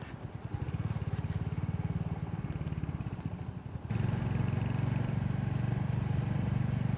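Royal Enfield Hunter 350 single-cylinder motorcycle on a night ride through the suburbs south of Melbourne, its steady, loud engine thrum close by and continuous, with a shift to a fuller, stronger note partway through.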